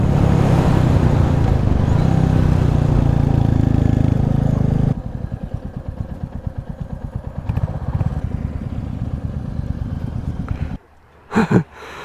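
A Royal Enfield motorcycle's stock exhaust drones loudly at first, then settles into a lower, pulsing hum at low revs before a brief blip near the end.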